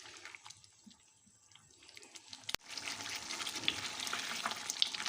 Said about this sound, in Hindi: अब हम इसको अच्छे तरीके से पकाते हैं और इसका सारा पानी खुश्क हम कर लेते हैं।